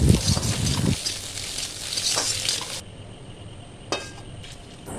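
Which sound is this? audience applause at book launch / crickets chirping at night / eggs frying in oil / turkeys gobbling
eggs frying in oil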